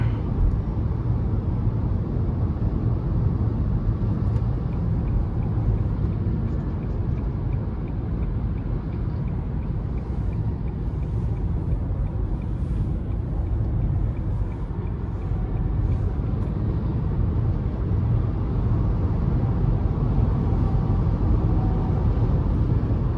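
Steady low road rumble and drivetrain hum from a 2023 Nissan Leaf SV Plus, a front-wheel-drive electric car, accelerating onto an interstate, a continuous broadband roar that holds fairly even throughout with no talk.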